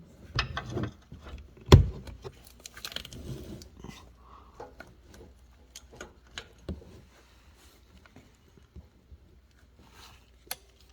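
A hand ratchet tightens an oil pressure sensor into the 3.0L V6 engine of a 1998 Ford Ranger/Mazda B3000, giving sparse, uneven clicks and short mechanical ticks at close range against a quiet background.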